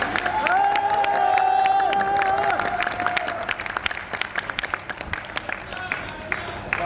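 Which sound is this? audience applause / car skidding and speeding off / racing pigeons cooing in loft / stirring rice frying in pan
audience applause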